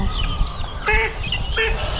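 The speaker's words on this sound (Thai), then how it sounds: "อีกตัวจะร้องว่าตอกนัดตอกนัดตอกนัด" Guinea fowl at a poultry market in Ban Pong, Ratchaburi give two or three harsh, nasal honking calls close by, separated by short gaps, over a low background rumble.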